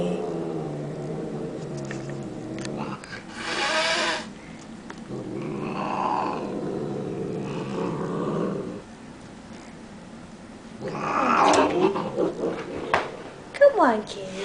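A pet cat gives low, rumbling growls in a couple of drawn-out stretches, close and fairly loud. A person talks softly to it in between and over the growls.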